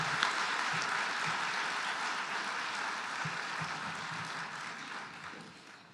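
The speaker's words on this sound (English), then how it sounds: "Please join me in a round of applause for our previous alum." Audience applause at a university alumni awards ceremony, broad sustained clapping from a large crowd that fades slightly toward the end.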